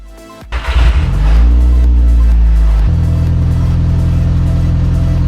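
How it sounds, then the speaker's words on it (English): A 1.8-litre turbocharged Audi TT engine, just repaired after a cracked PCV system, cranks briefly and catches, then flares up and settles into a loud, steady idle close to the microphone. "Starting the car up and going for a test drive"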